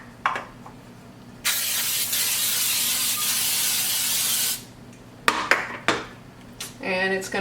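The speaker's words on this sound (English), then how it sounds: "We're just going to spray our pan with some of the Baker's Joy spray." Baker's Joy cooking spray hisses onto a baking pan in one steady burst lasting about three seconds, close and loud, followed by a few clinks and knocks of the pan being handled.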